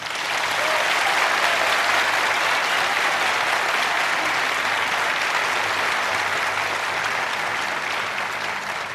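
A studio audience at a televised Turkish political debate bursts into loud, sustained applause, a dense wash of clapping that holds steady throughout.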